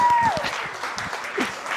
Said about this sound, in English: Give a big round of applause for Mr.